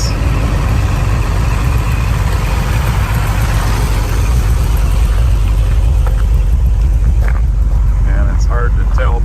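A muscle car engine with a smog pump running smoothly, a loud, steady low rumble throughout with someone talking over it.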